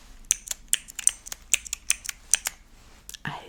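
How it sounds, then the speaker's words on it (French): Fake keyboard keycaps glued onto a card are tapped with fingertips, giving a close, quiet run of crisp plastic clicks in an uneven typing rhythm, with no talking. "j'ai décidé de les coller sur une carte pour me fabriquer un faux clavier"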